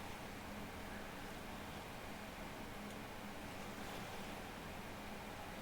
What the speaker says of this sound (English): I hear something soothing. Where am I? Waves?